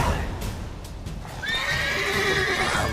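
Roach the horse whinnies loudly in The Witcher 3 video game, a close, drawn-out neigh rising in pitch after a brief stretch of hoof and ambient noise, with no talking over it.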